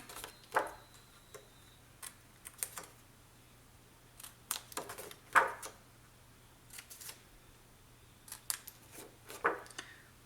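Scissors snipping small corners off paper pages for a scrapbook explosion box, a series of short, quiet crisp cuts scattered irregularly across a near-silent background.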